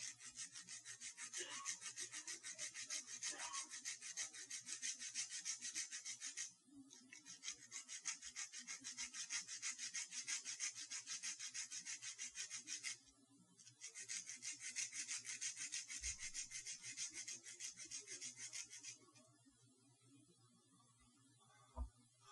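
Steady, continuous rasping as a pressure-treated bamboo meat skewer is filed and tapered into a fiber needle, running in long unbroken stretches with two brief pauses, close and even.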